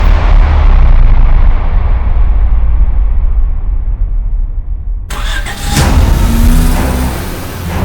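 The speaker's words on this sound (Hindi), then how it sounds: "चलो गाड़ी चलाओ" A car engine runs with a loud low rumble that slowly fades, then a cut brings in lighter road and engine noise as the vehicle drives off, no talking.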